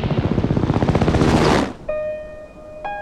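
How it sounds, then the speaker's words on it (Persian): A loud, close helicopter with rapid rhythmic rotor thumping that cuts off abruptly, followed by a steady high electronic tone. "وقتی اومد بالا سرمون دیدیم هلیکوپتره"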